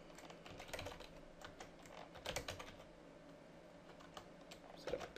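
Someone types a password on a computer keyboard, a quick run of soft key clicks that stays faint against quiet room noise, with no voices.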